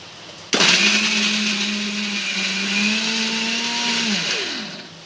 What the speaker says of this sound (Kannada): ಮಿಕ್ಸಿಗೆ ಒಂದು ಸ್ವಲ್ಪ ನುಣ್ಣಗೆ ಹಾಕ್ಕೊಳ್ಳೋಣ